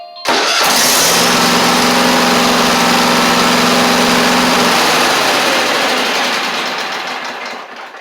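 Kohler engine on a Craftsman GT5000 garden tractor cranking briefly with a new starter motor, then catching and running at a loud, steady roar close by, gradually easing down.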